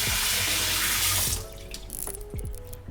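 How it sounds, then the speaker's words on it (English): Preserved lemons rinsed under a running kitchen tap, a steady loud rush of water that cuts off partway, leaving a quieter sink with soft drips and faint handling sounds. "Now we gotta rinse these."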